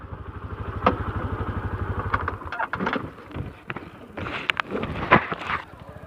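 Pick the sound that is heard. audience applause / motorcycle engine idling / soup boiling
motorcycle engine idling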